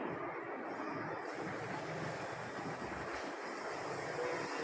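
Chicken pieces sizzle in hot oil in a pan over a medium flame, a steady dense frying hiss that runs unbroken from start to finish with no talking.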